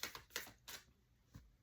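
A deck of tarot or oracle cards being shuffled, several quick riffling snaps in short bursts followed by a pause and one last flick, close and quiet with no talking.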